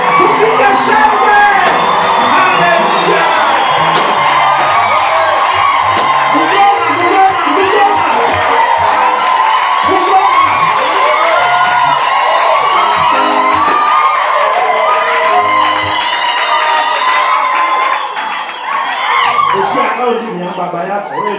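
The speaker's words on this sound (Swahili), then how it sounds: "Tushangilie Bwana, tupige makelele, tupige shangwe." A church congregation at a bishop's installation ceremony in Busia County, Kenya cheers, whoops and shouts together in a loud, sustained roar of celebration, with high voices and yells layered throughout and easing slightly near the end.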